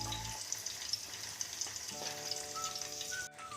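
Green chilies fry in a pan, a steady hissing sizzle with faint occasional stirring taps, moderately quiet and close, ending with a brief dip near the close; no one talks.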